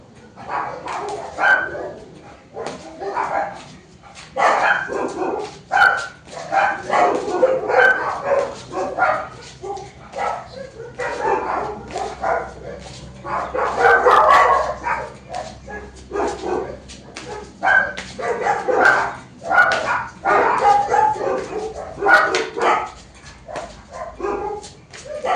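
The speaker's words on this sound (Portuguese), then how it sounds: "Os cachorros da vizinha." The neighbour's dogs bark in repeated bursts of yaps and woofs, sometimes overlapping, at moderate distance with brief gaps between volleys, and no talk.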